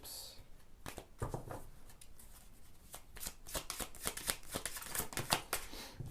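Tarot cards shuffled and drawn, a papery run of riffling flicks and slides with crisp snaps in a steady, close pattern, picking up in pace toward the end.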